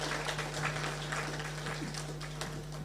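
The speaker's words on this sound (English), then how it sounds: "please join me in giving Yetu team a clap to appreciate them for their support" Audience applause for the Yetu team at a Nakuru LDO creation meeting, a steady, moderately faint wash of many hands clapping over a constant electrical hum.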